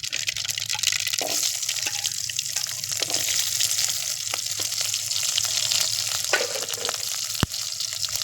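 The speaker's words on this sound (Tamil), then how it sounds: "இப்போ கொஞ்சமாக கடுகு போட்டுக்கலாம் ஒரு பச்சை மிளகா நாலஞ்சு சின்ன வெங்காயம் கட் பண்ணி போட்டுக்கலாம்" Mustard seeds, green chili and chopped shallots fry in hot oil, a steady close sizzle crackling throughout with a few sharp pops and the occasional clink of a utensil, with no voices.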